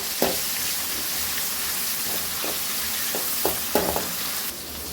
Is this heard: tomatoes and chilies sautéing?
yes